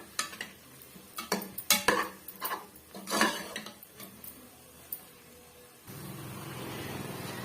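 Coriander powder being sautéed in a pan for a tomato gravy, with a spatula scraping and clattering in irregular bursts before a steady, soft sizzle takes over near the end; no one talks.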